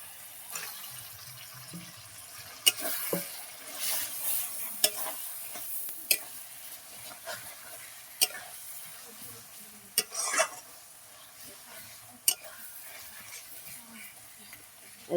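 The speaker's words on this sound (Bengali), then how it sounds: "একদম আমি ভাজা ভাজা করে নেব চিকেনটাকে" Chicken pieces frying and being stirred in a pan as momo filling, with steady soft sizzling and repeated sharp scraping clicks from the spoon throughout, and no talk.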